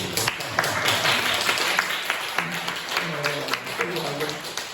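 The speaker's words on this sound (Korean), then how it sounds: "우리 다들 축하 박수 한번 해주세요" Congratulatory applause from a church congregation, a steady wash of clapping lasting several seconds with voices and chatter mixed in.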